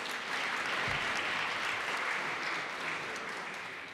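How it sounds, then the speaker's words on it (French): An audience claps steadily at an award ceremony, a moderately loud, even patter of many hands that tapers slightly toward the end, with no talk over it. "On l'applaudit pour l'encourager cette fois."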